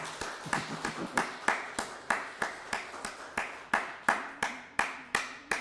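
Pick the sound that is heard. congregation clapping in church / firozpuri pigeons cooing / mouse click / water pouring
congregation clapping in church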